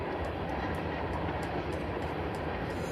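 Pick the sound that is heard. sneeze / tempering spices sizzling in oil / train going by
train going by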